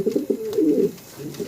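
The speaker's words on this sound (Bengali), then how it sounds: "অনেক বড় সড়ো বিগ সাইজের আপনার এক পেয়ার শৌখিন কবুতর দেখতেছেন, তাও আবার অ্যালমন্ড কালারের ভিতরে" A pair of large, fancy almond-coloured pigeons cooing inside a cage, soft low rolling coos repeating close by, heard alone without talk.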